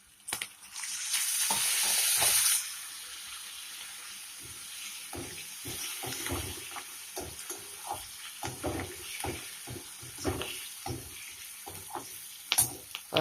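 Curry leaves dropped into hot oil with asafoetida for a tempering, a loud sizzling burst at first that settles into a quieter crackle with occasional stirring clinks.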